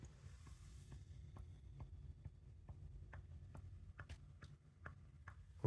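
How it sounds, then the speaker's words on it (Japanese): A Hitachi air conditioner's outdoor unit gives off a run of sharp little pops and ticks, about two a second, as wind blows into it, faint against a low steady hum. "なんかエアコンからパンパンパンパン鳴ってるんでね"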